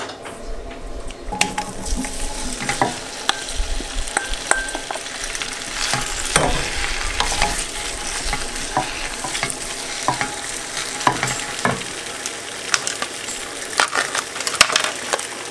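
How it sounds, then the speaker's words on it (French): Potatoes and bacon bits frying in melted butter in a pan, with a constant sizzle and frequent scraping, stirring and clinking of a utensil close by. "mon beurre est fondu, donc du coup ben, je vais mettre mes pommes de terre"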